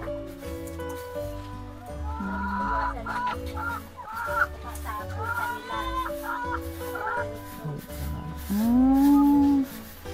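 Egg-laying chickens at a poultry farm, many hens clucking and squawking together in a busy chorus with a louder drawn-out call near the end, close and steady.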